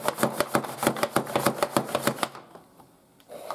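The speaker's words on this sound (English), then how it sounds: "Well, that's some quick, fast chopping." Veggie slicer chopping vegetables fast for home canning and dehydrating: a quick, even run of sharp, close chops about a dozen in two seconds, then a short pause before the next stroke.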